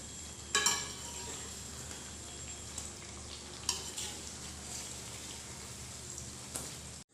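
A poha and potato snack frying in hot oil over a high flame: a steady, soft sizzle and crackle runs throughout, with a few louder clinks and stirring knocks scattered across it.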